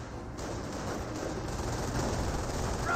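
Company of Heroes battlefield fire as a rifleman squad comes under suppression, a dense, continuous rattle of overlapping small-arms and machine-gun shots, steady and fairly loud without pauses.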